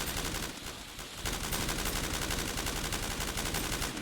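Sustained automatic gunfire in a Call of Duty Black Ops 3 custom zombies game, a dense, continuous stream of shots that fills the whole stretch, with a brief dip near the start.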